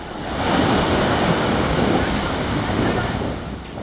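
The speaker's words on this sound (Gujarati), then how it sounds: "નવસારીના ઉભરાટ બીચ પર દરિયામાં ઉછળ્યા ઊંચા ઊંચા મોજા" High sea waves surge and crash at Ubhrat beach in Navsari amid a strong current, a continuous loud roar of surf mixed with heavy wind buffeting the microphone.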